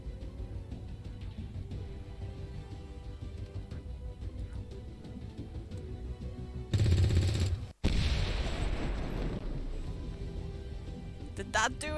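Gunfire in the turn-based strategy game XCOM 2: War of the Chosen, a sharp loud burst of shots lasting about a second, followed by a cut and a rumbling blast tail, with someone talking before it over game ambience.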